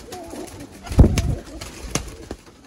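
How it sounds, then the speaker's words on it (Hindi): Breeder pigeons kept in pairs give a few short, low coos near the listener, with soft shuffling between calls and no voices. "ये सारे कबूतर वही अब आपके सामने आते जा रहे हैं"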